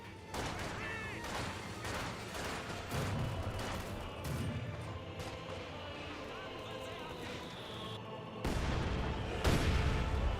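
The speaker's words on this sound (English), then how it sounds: "Mortar hits there." Mortar shells burst amid scattered gunfire in the World War II strategy game Company of Heroes 2, with repeated booms and crackling shots under continuous talk.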